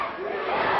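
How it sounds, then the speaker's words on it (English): Wrestling arena crowd chanting and yelling during a match, a dense sustained roar of many voices that swells slightly toward the end. "Crowd chanting USA."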